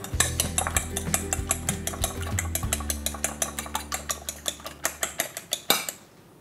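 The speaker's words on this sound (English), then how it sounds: "And I'm going to beat the egg." Eggs are beaten in a bowl for a Greek saganaki recipe, with a rapid run of sharp, evenly spaced clicks of a utensil against the bowl, close and fairly loud, slowing and ending with a last few knocks.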